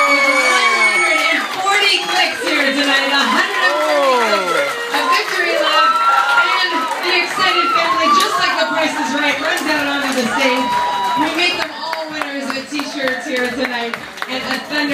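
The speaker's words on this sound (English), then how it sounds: "and a thunderous cheer." Loud crowd cheering and shouting for the winner at the close of a live game show, a dense wall of excited voices with some clapping, continuous and close throughout.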